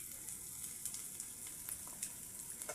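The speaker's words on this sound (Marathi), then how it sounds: "सुके मसाले परतून झालेत आता चांगले. सुके मसाल्यांनी तेल सोडले चांगले बघा." Dry spices, turmeric powder, salt and onion masala, frying in oil for a fish curry, a soft continuous sizzle with occasional light pops and crackles, close and steady, no talking.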